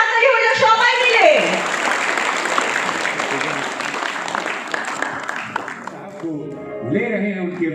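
Applause from an audience at a Unani medicine event, a broad wash of clapping that swells after a brief spoken line and fades toward the end as a voice resumes.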